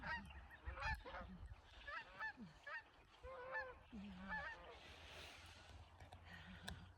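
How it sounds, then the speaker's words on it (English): Canada geese flying over wetlands during a morning walk, giving repeated honks, faint and distant, with some soft talk mixed in. "Little Canadian geese flying."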